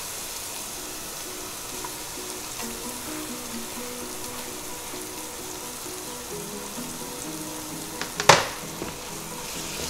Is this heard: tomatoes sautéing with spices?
yes